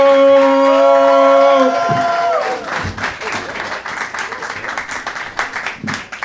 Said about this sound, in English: Give me all the noise and energy you got for Justo!